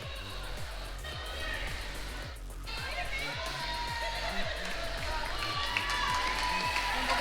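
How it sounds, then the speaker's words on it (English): Roller derby fans in the crowd at a Dockyard Roller Derby bout keep up a steady roar of screaming and cheering, with a repeated low thumping running under the noise throughout. "Got a lot of Tough Love fans in the crowd today. They are screaming loud."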